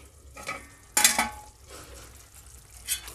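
Palak paneer being stirred in a pan over a medium flame, a few soft scraping strokes and a louder clatter of spoon against pan over a faint simmering sizzle, close and brief.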